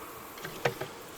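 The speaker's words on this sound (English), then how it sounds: "There's a lot of bees right there." Honey bees buzz around a hive in a fall bee yard, with a few short, faint passes of individual bees flying close by the microphone against a quiet outdoor background.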